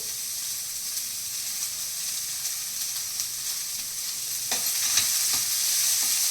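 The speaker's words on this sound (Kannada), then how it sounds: "ಒಂದೆರಡು ಕಡ್ಡಿ ಕರ್ಬೇವು ಹಾಕ್ತಾ ಇದ್ದೀನಿ" Curry leaves sizzle and crackle in hot oil for dal fry, a steady bright hiss with small pops that grows a little louder and busier near the end, with no speech.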